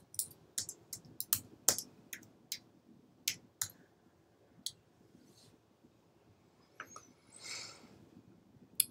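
A computer mouse gives sharp, dry clicks in an irregular run, some in quick pairs, close and fairly quiet over a soft low room hum, with no talking.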